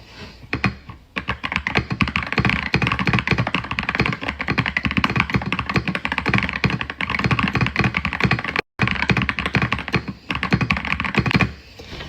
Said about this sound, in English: That's me typing for real.